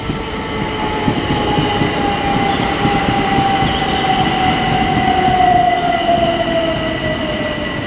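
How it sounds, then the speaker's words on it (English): A Southeastern class 375 electric train pulls into Sevenoaks station, with a steady rumble of wheels on rail and a long, drawn-out electric whine that falls gently in pitch. It is moderately close, and no voices are heard. "arriving now is going to be the 11:49 Southeastern service from Ramsgate to London Charing Cross, formed of a single 375"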